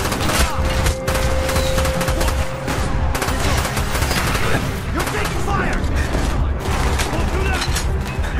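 Sustained heavy gunfire and automatic weapon bursts in the Call of Duty: Black Ops campaign, loud and continuous throughout with booming impacts, under voices calling out.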